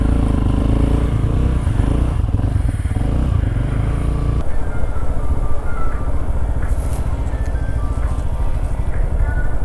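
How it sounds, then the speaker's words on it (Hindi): Motorcycle ride along a mountain road in Uttarakhand in winter, heading toward Om Parvat, its engine a steady close drone with wind and road rumble running the whole time. "सीधा बाइक पे मिलते हैं"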